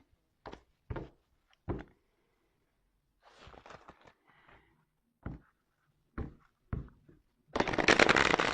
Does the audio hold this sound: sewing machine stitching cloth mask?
no